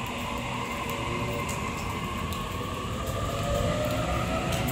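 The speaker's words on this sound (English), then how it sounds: "Here departing from Platform 3, we have A64 for a Penrith service." A Sydney A-set electric train departs Platform 3 at Doonside Station, producing a loud steady rolling rumble and motor whine with faint rail clicks, nearby and continuous throughout.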